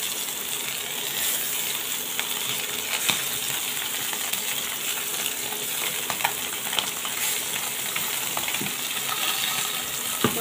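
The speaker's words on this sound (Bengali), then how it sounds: "তো এই তেলে এখন আমি টাকি মাছগুলোকে ভেজে নেব" Taki fish fry in hot oil in a home kitchen, giving a continuous, close sizzle broken by occasional sharp pops and clicks, with no talking.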